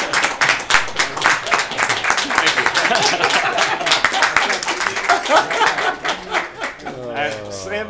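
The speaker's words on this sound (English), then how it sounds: "Let's have a round of applause for our school board." Room full of people at a school board meeting gives a lively round of applause, dense clapping that fades toward the end as a voice with a faint tonal hum comes in.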